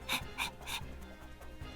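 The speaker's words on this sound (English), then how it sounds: "Sashimi barks in satisfaction before rushing over to Yuzuyu" A small dog in a visual novel game gives a few quick, satisfied barks in a row, then quieter snuffling and panting, heard alone without speech.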